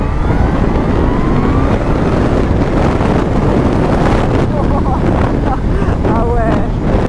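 Kawasaki Z H2 supercharged motorcycle accelerating hard, a loud, continuous engine roar with rising whine buried under heavy wind buffeting, close to the rider throughout, with a voice briefly audible near the end.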